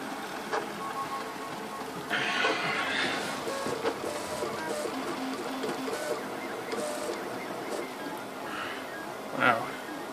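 Modified RepRap 3D printer busily printing a part, close stepper-motor whirring and buzzing in quick shifting bursts with small mechanical clicks, someone talking over it at times.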